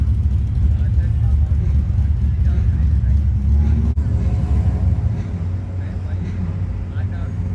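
A truck idling and creeping forward into the staging beams at a drag strip during sportsman bracket racing, its engine a steady low rumble filling the whole stretch, softening slightly near the end.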